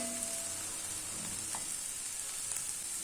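Bitter gourd (karela) cooks in a pan, a faint, even sizzle that runs without a break.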